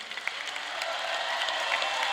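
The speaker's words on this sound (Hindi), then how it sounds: "उनके लिए जोरदार तालियां" Applause for the yoga teachers at a school yoga workshop, a steady wash of many hands clapping throughout the short stretch, moderately loud, with no talk over it.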